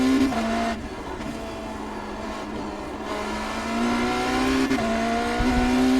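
A BMW M Hybrid V8 LMDh prototype race car in iRacing at Sebring, its engine droning steadily, then dipping and rising in pitch through downshifts, close and continuous with no voices.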